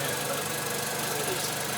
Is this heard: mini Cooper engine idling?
yes